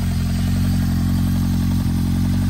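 A 1976 Honda CB550 cafe racer with a Kerker 4-into-1 exhaust runs close by, a steady throbbing low engine rumble with even pulsing and one brief dip, loud and alone.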